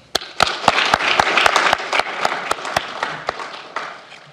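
Applause at a Bashkortostan government operational meeting honouring the agriculture minister: a loose ripple of clapping with distinct sharp claps standing out, moderately close, thinning toward the end, no talk.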